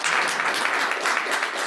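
An audience claps in a sustained round of applause after a conference talk, a steady dense patter of many hands that stays even and fairly loud throughout with no voices on top.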